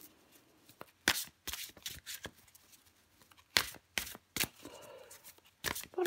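Tarot cards are shuffled in several short, crisp bursts of riffling and slapping separated by quiet pauses, close up and alone with no speech.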